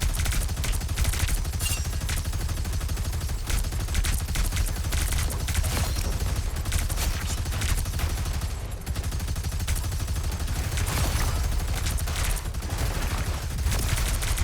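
Sustained turret gunfire in the Marvel Rivals video game, a dense continuous barrage of rapid shots with heavy low rumble, steady throughout and fairly loud.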